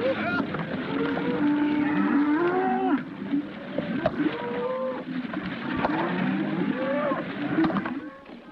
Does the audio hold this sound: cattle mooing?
yes